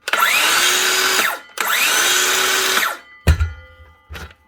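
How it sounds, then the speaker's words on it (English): Small Dewalt power saw that fell off a roof and has a cracked guard, running in two loud, close bursts of high whining motor that spin up and wind down, followed by a few clunks as it is set down. "next up we have a little Dewalt saw. Now this should be running fine"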